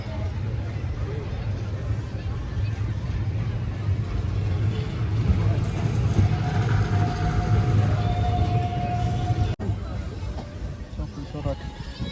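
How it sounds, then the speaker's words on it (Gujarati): Steady low rumbling of a train pulling out of Jetalsar Junction, continuous and fairly loud, with voices talking over the noise. "બે જ મિનિટ ટ્રેન ઊભી રહી અને નીકળી ગઈ છે જેતલસર જંકશનથી"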